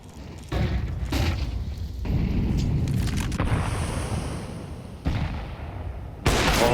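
Counter-Strike 2 gunfire from a pro G2 vs ENCE match at IEM Katowice 2024, loud booming shots and bursts layered over dense game noise, with abrupt shifts in intensity across the stretch.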